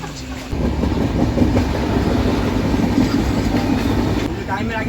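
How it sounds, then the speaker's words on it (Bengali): A passenger train rolls along the rails, rumbling steadily with a dense wheel clatter that swells after a quiet first half-second and holds loud throughout, with faint voices in the carriage. "ট্রেন আবার নিজের গতিতে চলতে শুরু করলো"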